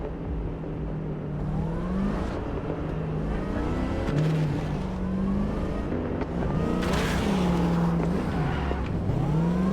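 A car is driven in the video game Cyberpunk 2077, engine tone rising and falling through gear changes and revs, loud and continuous with whooshing bursts, no talk.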